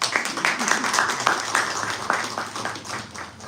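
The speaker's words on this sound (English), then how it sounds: "You can applaud now if you'd like." An audience claps after a talk by an imam, a dense patter of applause at moderate loudness that gradually thins out over a few seconds.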